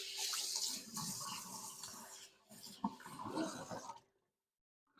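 Tap water running into a sink during rinsing, a steady splashing hiss that shifts as dishes or hands move under the stream, briefly interrupted, then cut off to silence at the end.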